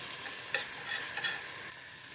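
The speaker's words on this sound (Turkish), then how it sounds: "Şimdi salçalarımı içine atıyorum. Ve salçalarımla beraber de bir iki tur karıştırıyorum." Fried peppers and onions being stirred with tomato paste in a pan for a cabbage dish, a steady bright sizzle with a few scraping stir strokes, close and continuous, no voices.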